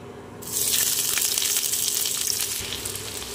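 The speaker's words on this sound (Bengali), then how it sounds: "একে একে দিয়ে দেব পেঁয়াজ কুচি" Chopped onion dropped into hot oil already tempered with cumin, dried chilli and bay leaf, bursting into a loud, continuous sizzle that starts suddenly and holds close up.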